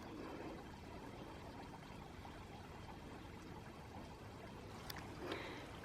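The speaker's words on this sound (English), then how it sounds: "Love the sound of like the tinkling water in the garden." Tinkling water from a solar-powered garden fountain, a faint, steady trickle running continuously in a quiet countryside garden with no voices.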